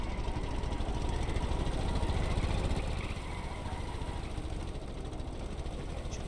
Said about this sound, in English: Engine powering up to keep up with the electric ring.